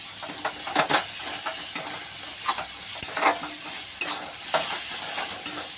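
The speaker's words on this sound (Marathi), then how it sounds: "आता याला मस्त आपण व्यवस्थित या मसाल्यामध्ये परतून घ्यायचं दह्याला." Yogurt stir-fried into a spiced masala for soybean keema in a pan: a steady sizzle with repeated scraping strokes of a spoon at an irregular pace, close and fairly loud, with no talking.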